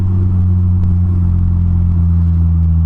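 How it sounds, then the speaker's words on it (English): A Polaris Slingshot's exhaust rumbles in a deep, steady drone, loud and close, heard from onboard during a test ride with no talk. "That exhaust sounds really good on this thing."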